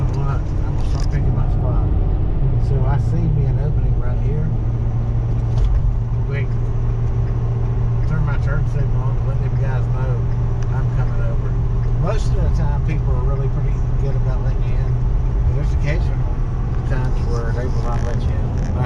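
Steady, loud highway traffic from inside a vehicle towing a boat, a continuous road and engine rumble with other cars passing, and a voice talking over it throughout.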